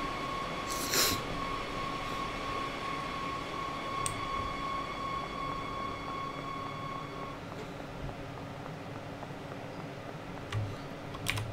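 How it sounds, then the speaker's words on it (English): A train pulls into a station in Train Sim World, on a Magdeburg to Leipzig Connewitz service: a steady rolling rumble with a thin, sustained electric whine. Occasional faint clicks and clunks come through, and no one speaks. "There's another train coming in."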